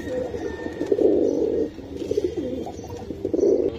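Racing pigeons at a bird market coo close by in soft, throaty, repeated rolling calls, two or three bursts with short gaps between them.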